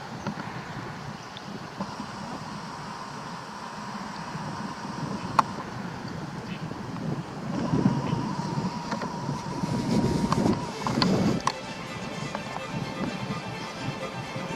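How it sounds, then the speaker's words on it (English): Gusty wind rushes and buffets against the microphone on a walk by a eucalyptus windbreak, swelling louder in a few bursts before settling back to a steady outdoor roar. "wind's coming up."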